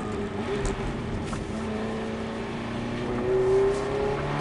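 A Ferrari F430 on a race circuit during a driving course accelerates hard through the gears, its engine note droning steadily from inside the car and swelling louder toward the end.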